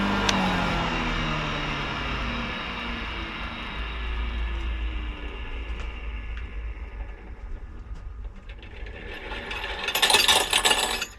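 A KR-02TA feed grinder runs with a quiet, even mechanical whir, then is switched off and winds down, a burst of rattling clatter following near the end; no one talks.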